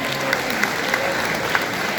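Church congregation clapping together, a steady patter of many hands at moderate loudness with a few sharper claps standing out and faint voices underneath.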